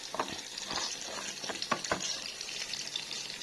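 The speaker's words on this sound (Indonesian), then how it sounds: "Goreng terong." Eggplant sizzling steadily in a frying pan, close and crackly, with intermittent sharp pops and a few stirring scrapes, no talk over it.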